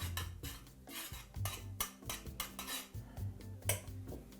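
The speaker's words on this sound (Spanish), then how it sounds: "vamos a pochar la cebolla con el aceite" Chopped onion sautéing in hot oil in a pan, stirred with a utensil that clinks and scrapes against the metal in irregular strokes, with only a faint sizzle underneath.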